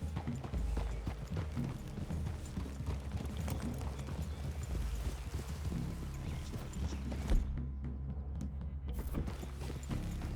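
Horses' hooves clip-clop steadily at a walk in the Red Dead Redemption 2 video game, a continuous close rhythm under busy ambient game sound and low background tones.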